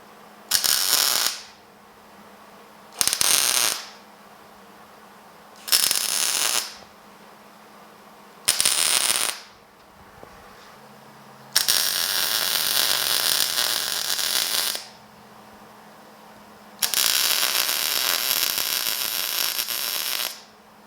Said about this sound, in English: let's get this thing welded.